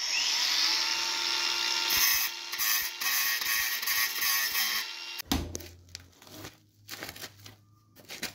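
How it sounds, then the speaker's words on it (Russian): An angle grinder cutting metal whines loudly at high speed for about five seconds, grinding harshly, then cuts off, leaving clanks and rustling. "Ты решил ее окончательно догнать болгаркой?"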